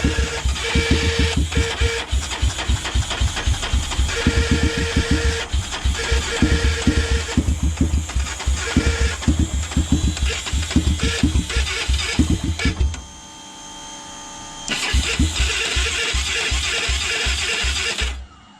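A Honda 400EX ATV engine on a weak battery chugs and sputters in rapid, uneven rhythmic bursts. After about thirteen seconds it drops out, then catches again and runs rough to the end.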